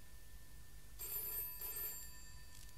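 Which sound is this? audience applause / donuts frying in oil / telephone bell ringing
telephone bell ringing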